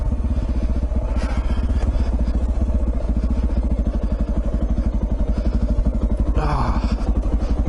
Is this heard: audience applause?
no